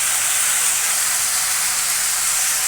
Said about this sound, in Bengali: হালকা করে একটু ভেজে নিলেই হবে